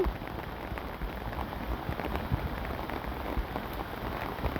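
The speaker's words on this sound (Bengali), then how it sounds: "এই যে আপনারা দেখতে পাচ্ছেন বৃষ্টি হচ্ছে" Steady rain pattering on a village house rooftop, with scattered louder drops landing nearby; continuous and even throughout, with no voices.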